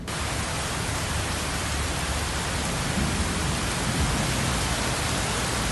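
Heavy rain pours down on the streets of Guayaquil during a storm with lightning, a steady, dense, loud hiss that fills the whole stretch without a break.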